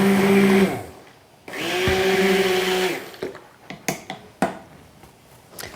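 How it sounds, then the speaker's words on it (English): A handheld stick blender whirs loudly in two bursts while mixing homemade lotion ingredients, its motor pitch steady, then stops and is followed by a few sharp clicks and taps. "You'll use a handheld stick blender to just mix all the ingredients until they're nice and creamy."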